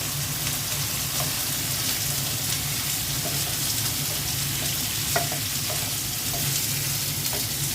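Eggplant and potato fry in a pan for a hilsa fish curry, giving a steady, dense sizzle with scattered small pops and faint clicks of stirring, close and continuous.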